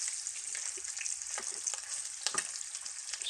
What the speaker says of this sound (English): flipping this bacon over and seeing it brown like this and listening to the sound of it cooking